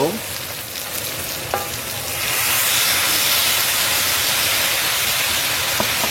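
Beef sautéing with garlic and onion in a pan, stirred at first, then a loud burst of hissing sizzle as soy sauce hits the hot pan and keeps frying steadily close up.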